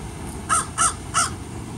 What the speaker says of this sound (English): There's Sam squawking.